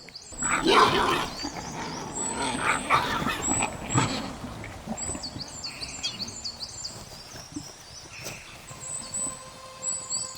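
Adult wild boars fighting in mating season in a snowy German forest, with harsh squeals, grunts and growls in bursts up close, fading later into thin high calls.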